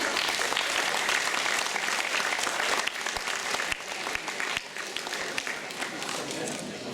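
An audience applauds at a city youth competition award ceremony. Dense, steady clapping from a large crowd runs throughout, loud and close, thinning slightly toward the end.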